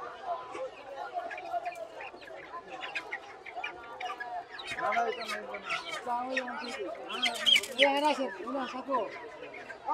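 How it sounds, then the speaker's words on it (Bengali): Local breed roosters and hens clucking and calling at Meradia market, several birds close by with overlapping cackles, while people talk over them. "এখানেও দেখুন দেশি জাতের মোরগ"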